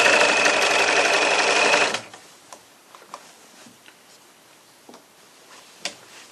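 Sewing machine stitching a large Stone Soup market bag: about two seconds of loud, steady, rapid whirring, then it stops, leaving faint scattered clicks and ticks.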